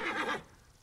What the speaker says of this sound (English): Oh, it's just the horse.